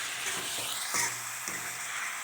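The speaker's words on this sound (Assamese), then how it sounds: "মাংসখিনি তেলত ভালদৰে লৰাই" Meat stirred and fried in hot oil in a pan, with a continuous sizzle and a few distinct scraping strokes, close up and with no talking.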